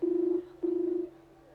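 A telephone ringback tone sounds on an outgoing call: two steady buzzing pulses, the second longer, then a quiet pause.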